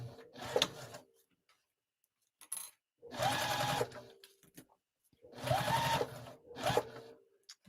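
A sewing machine runs unthreaded while stitching the top of a zipper pouch, in three close bursts of rapid mechanical whirring, each lasting about a second, with short quiet gaps between them.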